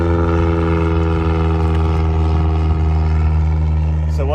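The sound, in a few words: airplane passing overhead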